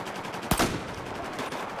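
A single M40A5 sniper rifle shot in Battlefield 4 cracks out sharply and loud, followed by a brief echoing tail, then low game ambience.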